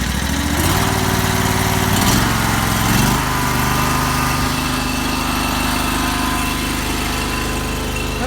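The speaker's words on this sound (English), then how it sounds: "So this engine generally cranks pretty good." A wood splitter's small gasoline engine runs loud and close, rising through a brief rev before settling into a steady, droning hum with a buzzing, vibrating tone.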